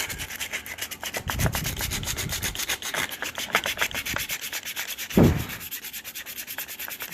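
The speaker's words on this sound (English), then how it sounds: "Regular 120 grit sandpaper. Pretty fine stuff." Steady back-and-forth rubbing of regular 120 grit sandpaper cleaning up a ground point during a Kohler Command 25 hp engine carburetor repair, continuous scratchy strokes close up with one louder thump near the end.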